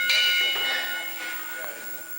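A wrestling ring bell is rung repeatedly at the end of a match, sounding several bright metallic dings with ringing tails over an arena crowd, while a commentator talks.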